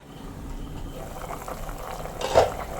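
Jackfruit seed pieces boiling in a pot of roasted-coconut curry, a steady close bubbling hiss with a brief louder surge near the end and faint talk in the background.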